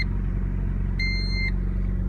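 A 1988 Honda car engine idles with a steady low rumble just after a cold start, joined midway by a brief high electronic beep tone, with no talking.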